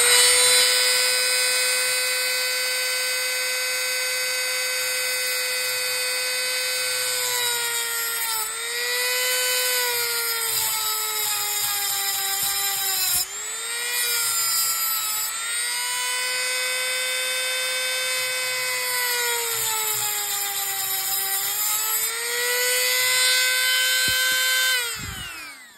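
Small rotary tool cutting a shoulder into a part of a Daiwa AS4050 fishing reel, a loud, close, high whine held steadily for about 25 seconds with pitch dipping and recovering as the bit loads.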